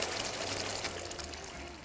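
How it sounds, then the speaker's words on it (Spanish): Water poured quickly into a cooking pan over eggplant and tomato, a steady broadband splashing stream running continuously at close range. "Y voy a poner agua rápidamente."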